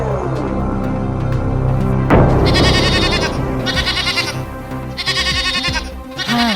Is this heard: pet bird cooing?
no